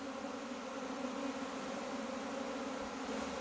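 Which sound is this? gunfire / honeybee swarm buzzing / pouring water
honeybee swarm buzzing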